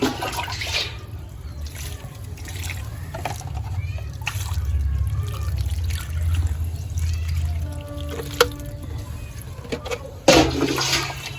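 Water poured into a potted dragon fruit plant, a trickling, gurgling stream with uneven splashes and a low rumble, a louder splash near the end.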